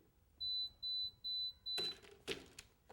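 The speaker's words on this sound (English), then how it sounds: "I introduce the beep" Three evenly spaced pure electronic beeps from a play audiometry hearing screening for a child, clear and steady, followed by light clattering handling noises.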